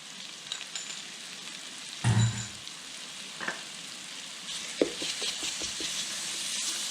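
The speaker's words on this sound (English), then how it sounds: "we're going to cook the garlic for about 30 seconds or so" Garlic fries in butter with onions in a pan, a constant close sizzle with a couple of louder bursts and soft stirring knocks, no voices.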